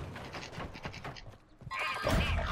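Video game horse whinnying with clip-clopping hooves, a short close neigh after a run of hoof beats, loud and alone.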